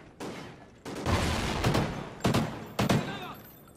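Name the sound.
gunfire in video game Call of Duty: Ghosts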